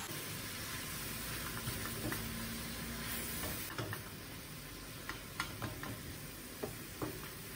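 Chard sautéing in a pan for an egg dish, a steady broadband sizzle with occasional scraping stirs and clicks of a utensil against the pan, close and continuous with no voices.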